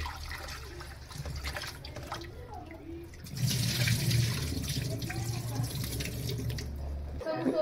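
Mutton and a goat head are washed under water: first a quieter splashing and handling, then from about three seconds a louder, steady gush of running tap water into a sink.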